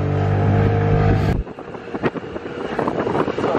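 Car traffic passes on a cold street with wind buffeting the microphone, a steady engine rumble cutting off abruptly and giving way to gusty, uneven road and vehicle noise.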